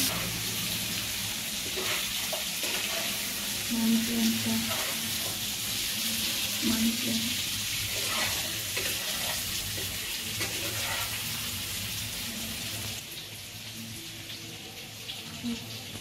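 Chicken sizzles and crackles in hot oil in a pan, a continuous frying hiss with a brief low voice now and then.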